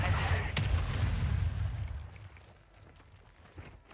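Air strike explosions in Call of Duty Warzone 2.0, a heavy rumbling boom with a sharp crack near the start, rolling on loudly before fading into quieter distant thuds.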